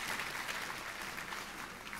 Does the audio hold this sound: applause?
yes